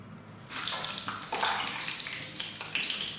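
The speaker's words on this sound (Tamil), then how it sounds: "உருக்கின நெய்யில் இந்த முந்திரி பருப்பை போட்டு வறுத்து எடுத்துக்கலாம்." Cashews fry in melted ghee while vermicelli kesari is being made. After a quiet start, a bubbling, watery hiss of frying rises and carries on steadily, close by.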